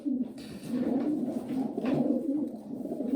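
An old pigeon, a bird from around 2011 or 2012 with no leg ring, coos in a low, steady murmur that runs through the whole stretch at moderate closeness, with soft rises and falls and no talk over it.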